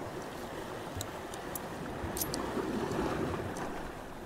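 Sea washing against coastal rocks at a rising tide, heard as a soft, continuous rushing wash with a slight swell toward the middle, fairly faint and with no speech.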